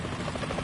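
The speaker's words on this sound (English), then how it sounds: "Is that a chopper I just heard?" A helicopter in the stealth game Metal Gear Solid 2, heard as a steady, fairly loud rotor drone with rhythmic chopping over a short stretch.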